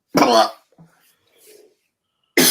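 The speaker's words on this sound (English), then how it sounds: "that voice makes me cough" Two loud, close coughs separated by a quiet gap holding faint breathing and small mouth sounds.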